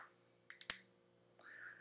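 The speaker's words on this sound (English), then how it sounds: "our reading will open with a loud bell to welcome Spirit" A single bright bell is struck once and rings out clearly, its tone slowly fading over about a second in an otherwise quiet space.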